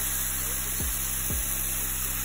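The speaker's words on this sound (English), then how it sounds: "Listen to it sizzle." Lumpy protein pancake batter sizzles in coconut oil in a hot pan. A steady, close hiss continues without a break, with two brief soft knocks partway through.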